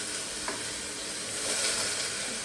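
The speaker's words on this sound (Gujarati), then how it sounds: "હવે આપણે નાખી દઈશું બટેકા નાખ જલ્દી." Potatoes tipped into hot oil spiced with coriander-cumin powder in a home kitchen give a steady, fairly loud broadband sizzle, rising slightly midway, with no talk over it.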